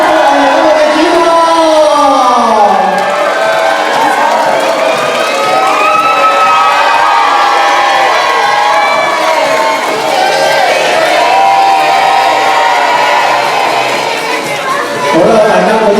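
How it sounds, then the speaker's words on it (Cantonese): A large crowd of fans cheers and whoops for a 21st birthday party's opening cake-cutting, loud and sustained throughout, with shrill shouts rising and falling over the roar. "大家嗰啲歡呼聲唔好俾佢停喎"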